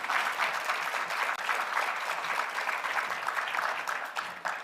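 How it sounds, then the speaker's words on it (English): A room full of people applauds the African Union at a Women, Peace and Security event, steady dense clapping sustained throughout with no voices on top. "Jessica, please can you give African Union a round of applause?"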